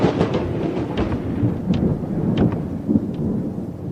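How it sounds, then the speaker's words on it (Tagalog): A thunder sound effect in a Filipino aswang horror audio story, with a loud, rolling rumble and crackling bursts over steady rain, sustained throughout and with no talking. "Hindi pa ako natatapos sa pagsasalita nang biglang kumulog."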